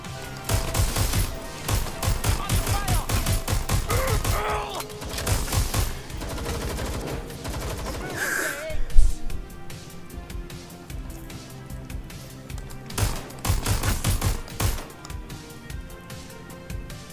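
Sustained gunfire in Watch Dogs Legion, loud rapid automatic bursts rattling close by in repeated volleys with brief lulls between them, one heavier impact midway.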